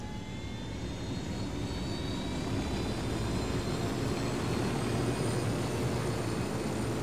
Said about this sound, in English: Get in the helicopter right now.